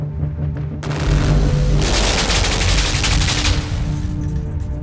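Heavy video-game gunfire in LIMBO, a dense continuous barrage of shots and booms aimed at the player, loud and close with no talking.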